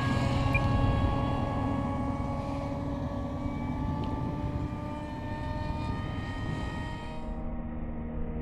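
A model Aero L-39 jet flying at half throttle, a steady droning turbine whine with tonal hum that stays fairly even and sits a moderate distance off.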